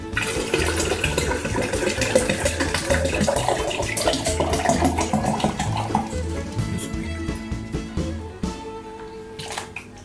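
Water running steadily into a container, a dense continuous gurgling splash that fills the first several seconds, then thins out and tapers off toward the end.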